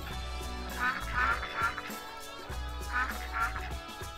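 Ducks quack in the RollerCoaster Tycoon 3 video game, a run of short nasal quacks in clustered bursts over a low, steady game music bed, moderately loud, with no talking.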